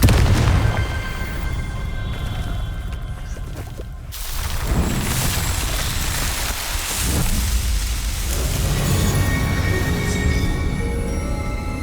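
In the Hogwarts Legacy video game, the Confringo explosive spell goes off in heavy booming blasts over a constant rumbling, rain-like roar. Deep thuds land at several points amid the crackling din.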